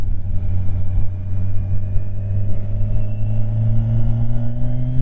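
Steady engine drone of a 2021 Kawasaki Ninja 1000 SX motorcycle riding under load, its pitch climbing smoothly through a quickshifted gear change, loud and continuous with wind rumble and no talk.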